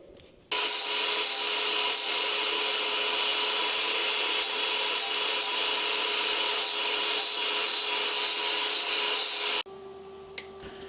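An angle grinder fitted with a combined cutting and grinding wheel works on wood for a kitchen remodel, a loud, steady, high-pitched whining drone with rasping texture that runs for about nine seconds, then cuts off abruptly.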